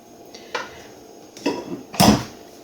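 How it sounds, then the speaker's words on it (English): A spoon scrapes and knocks against a bowl while making a well in pancake mixture, three or four short, close scraping strokes with quiet gaps between them and no talking. "So with a spoon, I'm just going to try and make a well in the middle."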